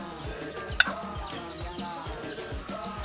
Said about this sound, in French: Ça, c'est la poule Dja.